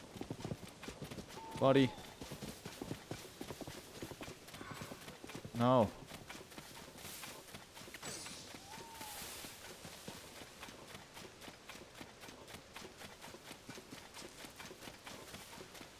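Horse hooves clop in the Tears of the Kingdom video game, a steady rhythmic patter running under game sounds, while a person talks briefly over it with two short loud bursts of speech early on.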